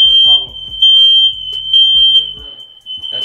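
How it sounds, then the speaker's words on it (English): A smoke alarm in a house, set off by a fog machine, beeps with a loud, steady high-pitched tone throughout, while people talk over it nearby. "That's fire alarm."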